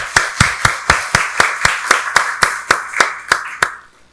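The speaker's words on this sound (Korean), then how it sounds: "박수로 하나님께 영광 돌리겠습니다." A church congregation at a Sunday worship service claps in unison, about fourteen sharp, evenly spaced beats in steady rhythm, loud and close, fading out at the end.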